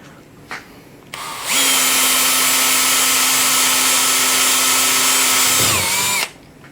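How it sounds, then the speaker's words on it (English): A power drill bores a pin hole in a homemade bowfishing arrow. After a brief start it whines loudly and steadily for about five seconds, close by, then spins down. "we're going to drill for our pin"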